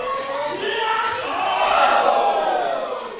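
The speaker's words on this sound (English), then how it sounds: "I can hear the reaction of the crowd though." Crowd noise at a Creation Pro Wrestling show, a steady roar of voices from an audience that swells slightly midway and holds, heard from a distance without any clear speech.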